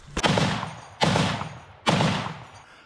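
Three heavy, booming bursts of machine gun fire about a second apart at a frontline position, each with a sharp onset and a long rumbling decay.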